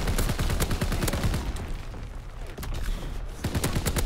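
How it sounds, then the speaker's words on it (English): Artillery and gunfire in Call of Duty WW2 come as a dense, loud barrage of rapid blasts and booms, with a brief lull in the middle before the volley picks up again. "Incoming enemy artillery."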